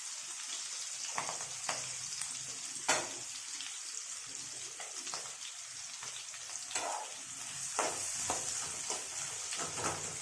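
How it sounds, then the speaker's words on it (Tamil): Onions and green chillies sauté in a pan on a high flame for simple egg fried rice, a steady loud sizzle with scattered spoon scrapes and clicks throughout, no voices. "எல்லாமே ஹை ஃப்ளேம்லேயே வந்து சாட்டே பண்ணுங்கள்"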